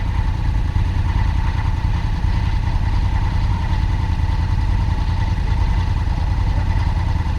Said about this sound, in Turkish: Motorun sesini duyuyorsun.